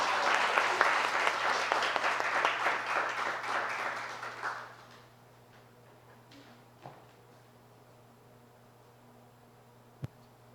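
A church congregation applauds loudly at a Sunday afternoon service, steady dense clapping for about four and a half seconds that then stops abruptly, leaving quiet room tone with a couple of faint knocks.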